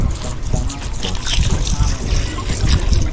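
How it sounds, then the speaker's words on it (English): A descaled red drum fish rinsed under running tap water, a steady splashing trickle with uneven spatters over about three seconds, close and moderately loud. "Rinse that off again."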